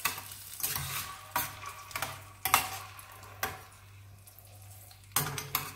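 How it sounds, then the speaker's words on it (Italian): Red mullet frying in oil in a pan, a steady low sizzle broken by several sharp clatters and scrapes of utensil against pan at irregular intervals. "Facciamo insaporire nell'olio le triglie"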